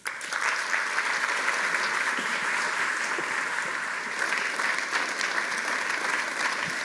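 Audience at a literary festival applauds a reader coming to the stage, with dense, even clapping sustained at a steady moderate level throughout.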